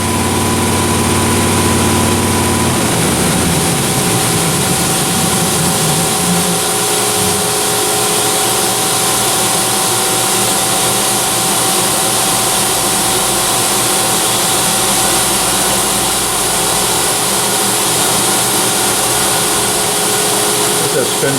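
Fadal VMC6030D vertical machining center running a cut, a loud, steady whirring machine drone with a constant high hiss and a brief shift in pitch early on, continuing unbroken throughout.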